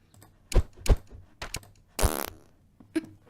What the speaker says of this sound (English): Big fart.